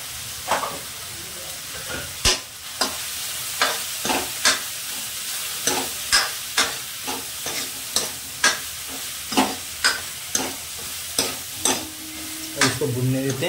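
Spices for sev bhaji get stirred and fried in a pan: a steady sizzle runs under regular, sharp scrapes of a utensil about once a second. It is loud and close, with no voice.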